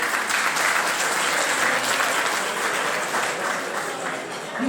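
Sustained, dense audience applause welcomes a singer and instrumentalist at the opening of a festive Dukagjini gathering in London, loud and steady throughout before easing slightly at the end.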